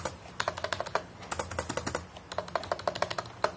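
Quick typing on a Zeus K002 membrane computer keyboard: rapid, close, irregular bursts of soft key clacks with brief pauses between runs, no speech over it.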